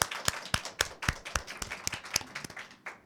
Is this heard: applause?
yes